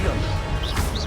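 A Protego shield spell cast in Hogwarts Legacy gameplay, a quick bright magical shimmer rising over a dense, loud bed of game combat noise and low rumble, lasting about a second.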